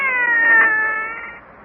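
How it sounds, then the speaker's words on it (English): A cat meows in a long, drawn-out wail, close and loud, standing alone with no talk over it, played as a sound effect in a radio drama. "That was a cat. Ain't you never heard a cat before?"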